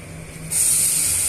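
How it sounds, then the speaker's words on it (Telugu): Water poured into a pan of hot roasted semolina for sweet rava kesari sets off a sudden loud, sharp hiss of steam that starts midway and holds steady to the end. "నేను ఒక రెండు కప్పులు వాటర్ని యాడ్ చేస్తున్నానండి"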